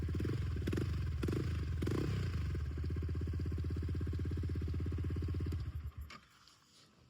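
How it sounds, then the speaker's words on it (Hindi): A Yamaha R15M motorcycle fitted with an Akrapovic full exhaust system runs with a loud, close, smooth and steady engine drone that drops away and fades near the end. "इतना स्मूथ साउंड करती है बाइक। एक्रा का फुल सिस्टम है"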